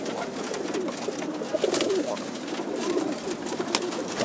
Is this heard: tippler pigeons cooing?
yes